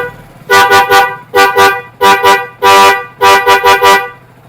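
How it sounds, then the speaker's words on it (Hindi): A loud aftermarket Jalwa horn fitted to a motorcycle blares in five bursts of rapid, tuneful toots, each a quick rhythmic pattern of two or three blasts, close to the microphone. "जलवा हॉर्न वर्क करेगा"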